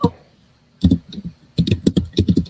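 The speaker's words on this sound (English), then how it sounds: "Girl, I've never heard your keyboard like I am tonight." Close, loud computer keyboard typing comes in short bursts of clacking keystrokes, with a brief quiet gap before a faster run of taps.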